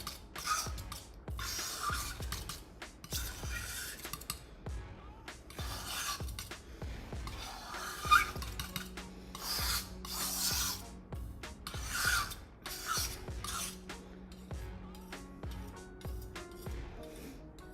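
Red watercolor pigment is ground by hand to make paint, giving a harsh, scratchy rasping that repeats in steady strokes, close and fairly quiet, with squeaky creaks.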